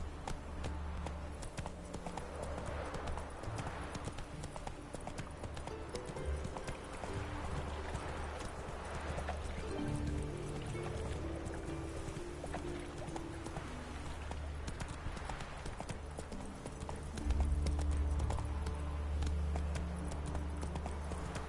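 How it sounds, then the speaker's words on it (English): Hooves of Roach, the horse in The Witcher 3, clip-clopping at a walk in a steady, even rhythm across a continuous game soundscape, close and clear with a louder low rumble near the end. "this is trotting. And if we like barely push it, this is walking."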